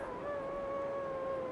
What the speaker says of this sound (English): I hear you, wolf.